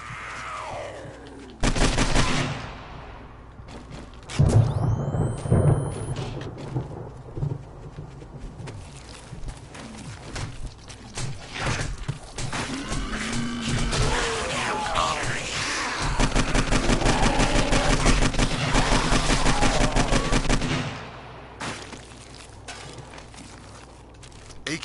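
AK rifle gunfire in the PS4 survival game 7 Days to Die: sharp bursts of shots with other in-game noise, loudest across the middle and fading near the end.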